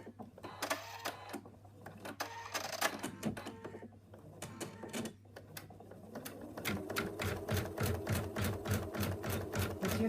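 Home embroidery machine sewing a basting placement outline for an in-the-hoop moose design, a quiet run of rapid needle taps with short pauses, then a denser, steadier stitching buzz under a faint constant hum.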